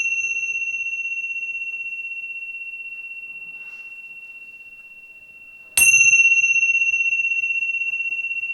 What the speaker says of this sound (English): I'll end it with the sound of a chime